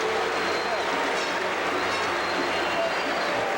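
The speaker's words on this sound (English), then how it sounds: "Nice, generous round of applause from the fans here." Basketball fans in an arena during a 1983 Sixers–Lakers game give a steady, broad round of applause, a continuous dense wash of clapping and crowd noise with no clear breaks.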